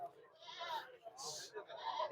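Goats bleating at a weekly goat market in Mullanpur Dakha, several short wavering bleats close by, fairly faint, mixed in with people talking nearby.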